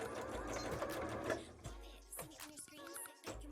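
A sewing machine stitches two pieces of a bra together in quick, close bursts of rapid mechanical chatter, with short pauses between runs.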